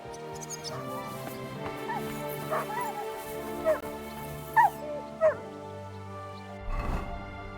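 In Kingdom Come Deliverance 2, the dog Mutt gives several short yips and whimpers, a few sharp bursts standing out over game music and ambience, ending in a lower rumbling sound.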